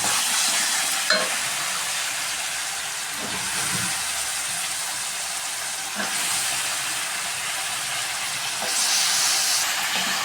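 Eggplant, onion and tomato fry and hiss steadily in a pan for a dalcha curry, with a spoon stirring and scraping at intervals over the continuous close sizzle.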